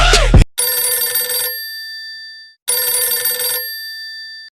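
An electronic telephone ringtone trills loudly in two long bursts separated by a pause, with a brief voice just before the first ring.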